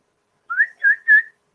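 A person whistles a short rising phrase of three clear, close tones in quick succession, alone against silence.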